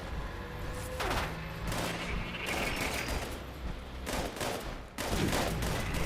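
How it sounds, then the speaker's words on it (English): Mechanized Sheepsquatch in the video game Fallout 76 unleashes repeated bursts of rapid laser fire, several sweeping volleys separated by brief lulls over a constant loud, rumbling backdrop. "He's about to fire his lasers."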